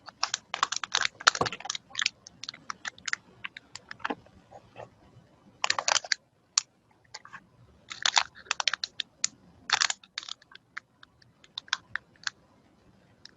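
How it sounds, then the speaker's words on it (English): A computer keyboard typing a file name, with quick clusters of crisp key clicks separated by short pauses, close and clear, with no talk. "I need to type in a name."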